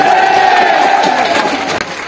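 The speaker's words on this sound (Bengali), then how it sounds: "হাততালি দিতে হাততালি" An audience at a political rally lets out a loud, dense burst of cheering and crowd noise, close and continuous, ending abruptly after about two seconds.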